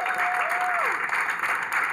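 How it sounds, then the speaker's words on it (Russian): Steady applause from a comedy show's studio audience, a dense continuous patter of clapping for the full stretch with a tone sliding beneath it. "Аплодисменты"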